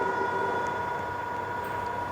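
A train arrives at Bath Spa station, giving a steady rumbling roar with a sustained tonal whine, loud and close throughout, with no speech.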